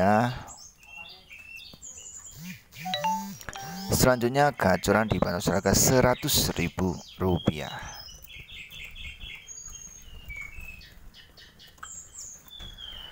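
A pied bushchat sings a rapid, varied twittering song up close, with someone speaking over parts of it.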